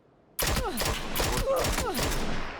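Rapid bursts of gunfire crackle nonstop in PUBG Mobile, dense overlapping shots with whistling ricochets, loud and close.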